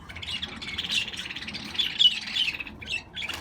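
Pet budgie squawking in a home aviary, harsh raspy calls repeating steadily through the whole stretch at close range, with a faint background rumble.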